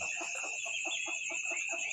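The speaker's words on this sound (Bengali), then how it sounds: "একটু দেখেন আমার কয়েকটা মুরগি" A few chickens on a small farm cluck in a quick, regular series of soft pulses over a steady high background whine, the whole scene faint and distant.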